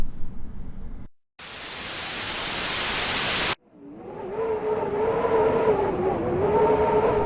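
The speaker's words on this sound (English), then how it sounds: "Oh wait, that's a car." A car engine hums steadily with a rising, wavering pitch, following a loud burst of harsh static-like noise and a brief silence.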